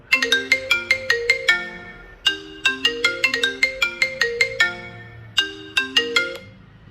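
A bright marimba-like iPhone ringtone plays a quick, repeating melodic phrase three times, loud and clear with short pauses between repeats.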